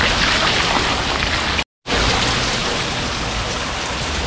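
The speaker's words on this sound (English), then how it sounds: "I was in the rain for like 20 seconds. I got soaked" Heavy rain pours down on the town of Holbox, Mexico, in a dense, constant hiss, broken by a brief moment of silence before resuming.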